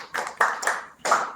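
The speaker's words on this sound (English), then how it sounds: "Let's clap for her." A few people clap in short irregular bursts, with several quick claps, a pause, then another burst, fairly quiet and close, like a small group applauding a young speaker at a kids' leadership event.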